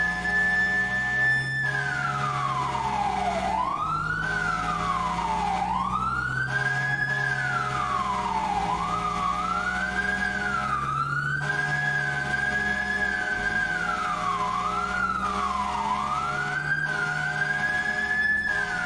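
Multiple emergency vehicle sirens wail continuously during a large Manhattan fire department response, a rising-and-falling tone sweeping repeatedly over low engine rumble, loud and close throughout with no talk.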